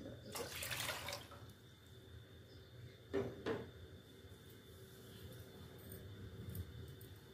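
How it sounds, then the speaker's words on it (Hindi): Water pours into a pot set on a lit stove, a steady running-water wash through most of the stretch with a couple of brief knocks in the middle, fairly close and without talk. "इहदे विच दो कप पानी दे"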